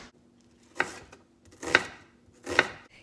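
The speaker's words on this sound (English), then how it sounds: "We're also going to chop half of an onion." Three crisp knife chops through half an onion on a cutting board, spaced about a second apart, close and clear while sweet bell pepper is also being prepped for jambalaya cooked over a campfire.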